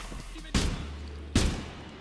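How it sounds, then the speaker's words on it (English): Gunfire in the video game Exfil Zone, shot up through a floor: two loud, sharp bursts about a second apart, each trailing off into a rumbling decay. "Stop shooting at me through the floor, dude."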